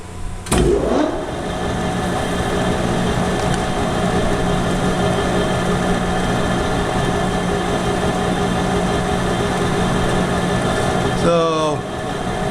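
Metal lathe spinning at 550 RPM with a newly honed toolbit taking a cut, a continuous close mechanical hum and whir that starts up abruptly and runs steadily before winding down with a squeal at the end, with a voice talking over it.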